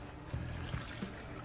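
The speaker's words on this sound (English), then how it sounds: "pour this mixture" Marinade mixture pours into a Ziploc bag holding a venison backstrap, a faint close liquid trickle with a couple of soft glugs over steady background hiss.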